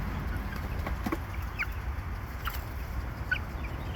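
Three-week-old chicks in a cage aviary give soft, brief peeps scattered over a few seconds, faint against a steady low background rumble.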